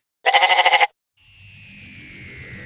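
A goat gives a single loud, wavering bleat lasting about half a second, followed after a pause by a softer sustained tone over a low rumbling background.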